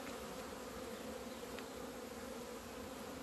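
Honeybees drone at an opened hive in February, a dense, continuous buzzing of many insects up close that stays steady and fairly faint throughout, with no voices.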